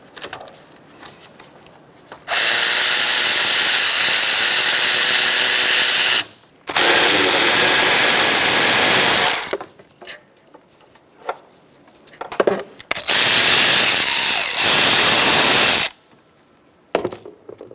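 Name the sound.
removing tensioner pulley bolts with a 12mm socket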